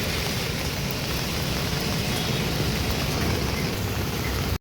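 Heavy rain pours down outdoors as a dense, continuous roar of loud, even hiss that holds steady throughout with no voices.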